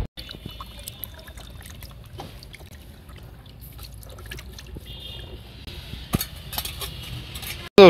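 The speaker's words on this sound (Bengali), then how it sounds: "তোমার এই যে গোস্ত ধুয়ে রাখছি" Tap water runs as raw beef is rinsed in a home kitchen, a faint, steady trickle and splash with occasional clinks of metal, close and without talk.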